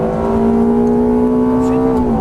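A Ferrari F430 F1 engine at full throttle on a race track, loud and close, its steady high-pitched rising tone held throughout without a break.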